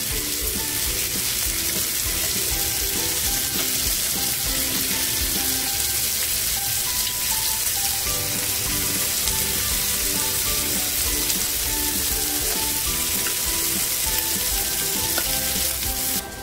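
Prawns fry lightly in a pan with a steady, continuous sizzle and crackle throughout, close and even in loudness, with no talk.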